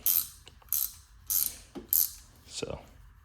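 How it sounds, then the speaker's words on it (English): A hand ratchet turns a bolt in quick clicking strokes, about five sharp metallic ratcheting bursts with short pauses between them, close and clear with no talking. "And I'm turning the bolt,"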